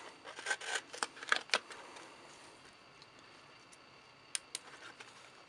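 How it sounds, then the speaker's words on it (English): A flat-grind knife slicing through cardboard, giving a burst of scraping, crackling cuts early on and two brief sharp snaps near the end, close and fairly quiet. "Let me cut in with a flat grind"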